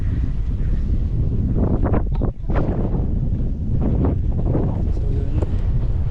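Strong wind on a mountainside roars and buffets the microphone in heavy, continuous gusts, loud and close, with a brief lull partway through.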